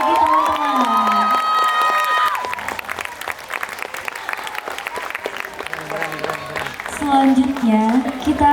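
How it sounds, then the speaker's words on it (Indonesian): Festival crowd at a student theatre show applauding and cheering after Teater Yupa's performance: loud clapping mixed with whoops, shouts and excited voices, some high-pitched, swelling again near the end. "Berikan tepuk tangan yang meriah sekali lagi teman-teman."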